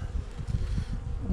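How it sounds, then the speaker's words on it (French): Wasps buzz in a low, dense, close hum around a nest being destroyed, a brief continuous drone with no voices. "On est en train de détruire un nid de guêpe là."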